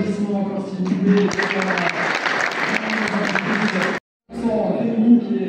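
An audience at an award ceremony claps in sustained, dense applause, fairly close, with a voice speaking over it. The clapping breaks off briefly and then resumes.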